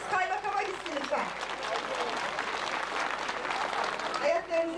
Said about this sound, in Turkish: Alkışlarınız kaymakama gitsin lütfen.